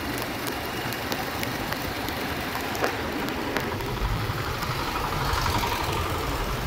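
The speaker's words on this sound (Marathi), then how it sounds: "काका ट्रॅक्टर घेऊन चाललेत शेतात" A steady tractor engine idles and rumbles at a constant level throughout, with faint clicks and a slight swell near the end; no voices.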